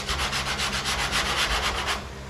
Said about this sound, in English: you want to keep your 80 grit scratches contained inside of your mud work like this.